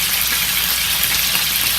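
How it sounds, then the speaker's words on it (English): Chopped onions go into a pot of miso soup with medium-hard tofu, and a loud, steady hiss with a dense crackle fills the whole stretch with no pause. "Now we're adding chopped onions to the miso"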